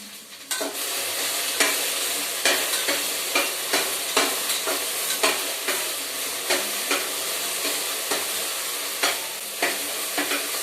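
Okra frying in a pan for a simple sambar, with a steady sizzle and hiss and a regular series of sharp scraping knocks as a spoon stirs the pieces, close and loud with no talking.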